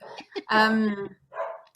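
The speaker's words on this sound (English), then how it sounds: "sorry, that was my dog." A pet dog barks indoors in the background of a home interview, a couple of sharp barks followed by a longer yelping bark, then a brief voice speaking.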